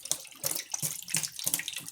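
Tap water running into a sink during washing in a kitchen where dosa batter is ground, a splashy, uneven stream with pulsing bursts as hands or utensils move under it.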